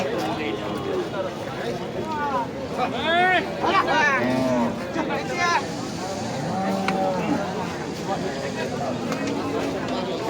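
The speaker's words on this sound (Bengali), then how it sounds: "বিশাল একটা গরু ফিজিয়ান" A large Friesian cow at the Nandail Chowrasta cattle market lets out several drawn-out moos in the first half, heard over steady crowd chatter and market bustle.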